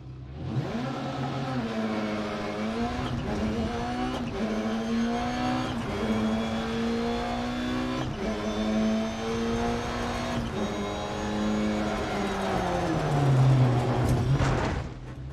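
Rally car engine in Dirt Rally 2.0 holds a loud, continuous whine through a corner, with pitch sweeping up and down as revs change, close and alone without talking.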